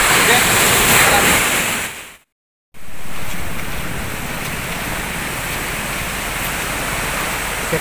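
Strong ocean waves break at Wabers beach in Nabire, a steady loud wash of surf that cuts out briefly before resuming just as full and continuous, with no voices.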